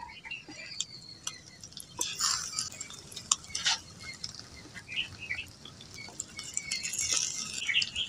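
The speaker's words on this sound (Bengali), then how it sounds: "দুটো আলু আমি আগে থেকে সেদ্ধ করে নিয়েছি, আলুটা একটু থেতো করে মশলার মধ্যে দিয়ে দিচ্ছি" Boiled potatoes being mashed and stirred into fried spices in a pan, with scattered clinks of a utensil against the pan over a low background hiss and faint birdsong.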